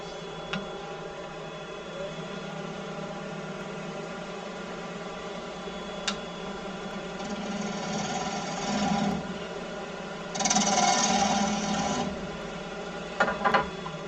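A wood lathe spins steadily as a 3/8 bowl gouge with a swept-back grind hollows out the centre of a wooden rice bowl. A continuous whirring scrape runs throughout and swells into louder cutting bursts near the end.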